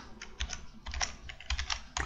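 Quiet typing on a computer keyboard while filling in an online form, a quick irregular run of soft key clicks close by, with no talk.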